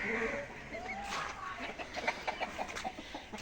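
An Aseel chicken breeding pair, a male and a light-coloured female, on a poultry farm near Dhaka give soft, close clucks in a short rhythmic series, with faint background murmur.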